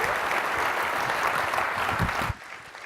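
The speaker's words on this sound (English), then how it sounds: "So please, a big round of applause" An audience at a business summit gives sustained, dense applause that continues evenly, then drops off sharply near the end.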